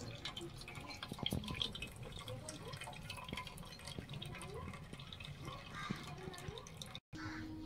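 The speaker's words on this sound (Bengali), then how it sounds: "ততক্ষণ পেঁপের জলটা ঝরে যাক" Water drains and drips from strained papaya in a strainer, faint, irregular small drips and trickles close by under a low room background.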